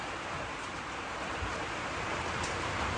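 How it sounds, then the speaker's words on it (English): Rain falling outside a trailer makes a soft, steady hiss of broadband patter, faint and continuous without any voices. "it started raining"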